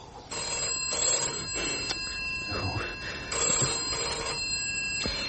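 A telephone rings in repeated bursts with short gaps, heard over a steady background and some voices.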